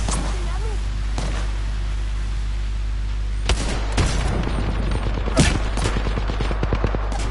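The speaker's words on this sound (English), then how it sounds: "I can't see where they're shooting from." Apex Legends gunfire rings out in bursts of sharp shots, rapid volleys clustered toward the end after a quieter stretch of ambient game noise, loud and close.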